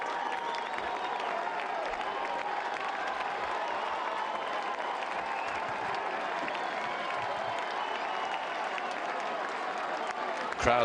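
A tennis crowd at the Roland Garros 2015 final between Djokovic and Wawrinka applauds Djokovic in a steady, dense roar of clapping that lasts the whole stretch. The applause is loud and sustained, and a commentator's voice sits faintly beneath it.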